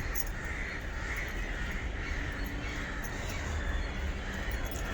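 A crow caws repeatedly over a rooftop garden as rain approaches, the harsh calls coming in a loose rhythm at moderate distance against a steady outdoor background, with no talking.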